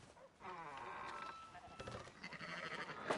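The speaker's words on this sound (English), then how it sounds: "Fine sheep." Sheep in the video game Red Dead Redemption 2 bleat several times in close succession, wavering and fairly near, with faint voices and background game ambience around them.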